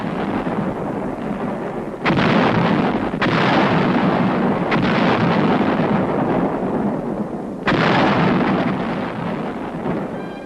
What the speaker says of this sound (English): Our 155's blast evacuated Uijeonbu.